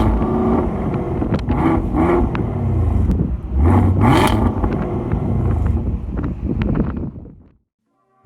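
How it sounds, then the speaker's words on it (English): A Chevrolet Camaro ZL1's loud exhaust roars close by, surging through a sharp rev climb midway, then fading and cutting off abruptly into near silence at the end. "this car's crazy loud exhaust system"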